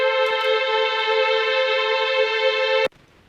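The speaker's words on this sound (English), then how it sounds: "Without the plugin, the Mellotron sounds like this." A sustained, steady Mellotron chord with a tape-like tone and no plugin processing holds for nearly three seconds, then cuts off abruptly into near silence.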